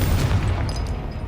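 The Confringo explosive spell cast in Hogwarts Legacy, a single short burst with a booming blast and crackle that quickly fades.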